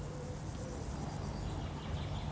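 Steady crickets chirping in a continuous outdoor drone, moderately loud, with no voices.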